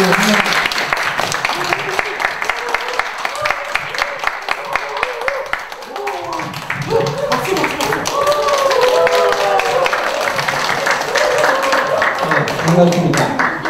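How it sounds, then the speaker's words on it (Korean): An audience at a village community-building meeting breaks into applause, dense clapping that briefly dips then swells again, with voices talking over it. "큰 박수로"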